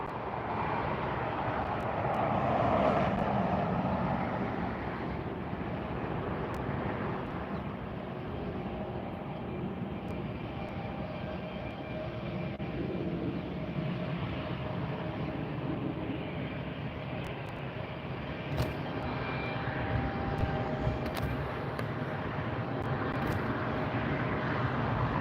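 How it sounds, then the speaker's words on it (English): A Delta Airlines Boeing 737-900ER, Flight 841 from Salt Lake City, arriving at LAX near the runway, a steady broad jet roar that swells slightly early and holds loud and continuous throughout. "Delta Flight 841, a 737-900ER."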